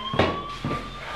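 Two ambulance sirens wail in two rising blasts against a steady tonal hum, moderately loud and seemingly passing nearby.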